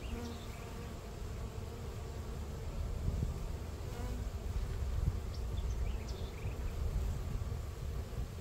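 Honey bees in a hive being smoked while a brood frame with bees is moved from a strong colony to a weak one; a steady, dense buzzing hum holds throughout, with individual bees flitting close by.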